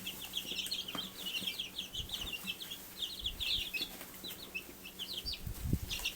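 Chickens in a barn alongside young replacement chicks about two and a half weeks old, giving repeated high, quick peeping calls and soft clucks over faint rustling and wing flutters at moderate distance.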